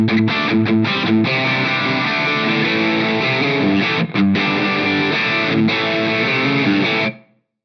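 A heavily distorted instrument runs through an Eventide H9 distortion algorithm with a low boost after the drive, giving thick, saturated chords with a couple of short choppy stops before it sustains and cuts off cleanly near the end.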